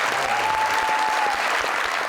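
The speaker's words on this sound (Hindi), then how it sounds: "इनके लिए बहुत सारी तालियां।" A studio audience on a talk show applauds the winner of a gift hamper, heavy continuous clapping close and loud, with a brief tone and some low thumps beneath it.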